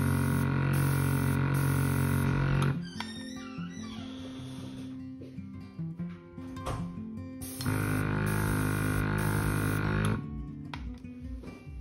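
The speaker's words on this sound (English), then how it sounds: "This compressor can run on 12 volts, but also has a lithium battery, allowing it to run wirelessly for around 90 minutes." A portable 12-volt airbrush compressor with a lithium battery and three pressure settings runs with a loud, steady hum and hiss, cycling on and off in two long bursts with a quieter stretch between them.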